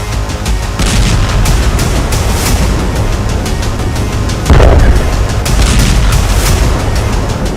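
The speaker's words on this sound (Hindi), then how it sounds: "इजराइल ने जिस बंकर बस्टर बम से नसरल्लाह को उड़ाया," Bunker buster bomb explosions in Israeli strike war footage: loud, dense, continuous booming and rumbling with overlapping blasts, a sharper heavy impact partway through, and no talk.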